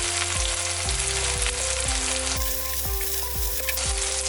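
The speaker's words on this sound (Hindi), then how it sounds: "अब इसमें सब्जी डालेंगे, गाजर, मटर, बंद गोभी, इसे पत्ता गोभी भी कहते हैं।" Carrots, peas and cabbage sizzle loudly in a hot pan for a soup, a steady dense frying hiss with a repeating stirring rhythm underneath, close and continuous with no talking.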